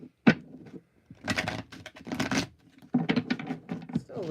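A deck of playing cards is shuffled close by in several quick bursts of riffling patter, with brief pauses between them.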